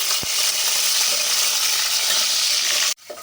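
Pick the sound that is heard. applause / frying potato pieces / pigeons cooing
frying potato pieces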